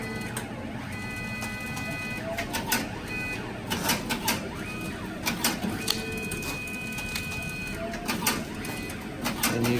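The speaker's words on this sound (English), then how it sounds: "We're going to go ahead, hit start. It's going to raise our feeder tray up." Duplo 616 slitter, cutter and creaser feeding 8.5 by 11 paper sheets and trimming them to postcard size: steady mechanical whirring with repeated clicks, rustles and short tonal whines, fairly faint and continuous.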